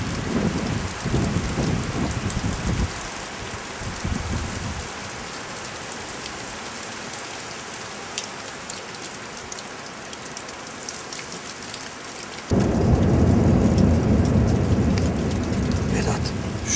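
Hail pelts down after rain on a mountainside in Akseki, Turkey, a dense continuous patter with distant thunderous rumbles that eases midway, then surges louder toward the end.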